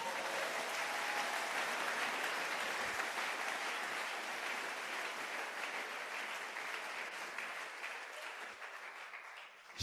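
A church congregation applauds in praise, a steady, dense wash of clapping that holds for the whole stretch before thinning slightly at the close.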